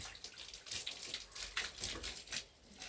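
Water splashes in irregular bursts during washing, soft close sloshes and trickles rising and falling over a few seconds at a fairly quiet level.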